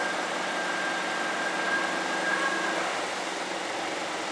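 Forklift engine running steadily while the forks are raised and slid into a pallet, a constant mid-level drone with no talk over it.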